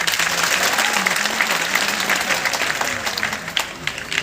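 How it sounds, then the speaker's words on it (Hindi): An audience at an RCM business function at Gurunanak Bhawan in Ludhiana claps steadily, dense continuous applause from many hands filling the hall, with a voice faintly underneath. "ताली बजाइए।"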